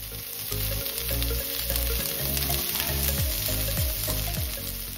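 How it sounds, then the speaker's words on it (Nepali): Garlic, chopped red onion and finely shredded cabbage sizzle steadily in hot oil, a dense continuous crackle over light utensil clatter and a faint background tone, with no voice. "तेल तातिसकेको छ र म यसमा लसुन पुर्याउँदैछु त्यसपछि म यसमा काटेको रातो प्याज हाल्दैछु"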